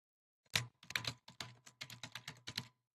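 Keys clatter on a computer keyboard in a quiet room, a quick uneven run of a dozen or so close, crisp taps with short pauses between bursts and no voices.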